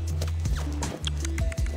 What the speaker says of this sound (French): Au trot de travail, on a le cheval qui, de manière générale, avec son postérieur, il recouvre la trace de l'antérieur.